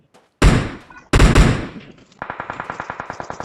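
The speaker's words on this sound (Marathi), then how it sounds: "राईट साइडने गोळी आली आहे तुला." Gunfire in the PUBG video game on the Miramar map, two loud heavy bursts followed by a rapid, evenly spaced string of about a dozen sharper automatic shots, close and clear with no talk over them.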